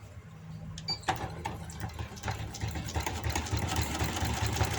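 A sewing machine stitches the hem of a palazzo pant, running in a continuous fast mechanical whir after a brief start, close and steady with no talking.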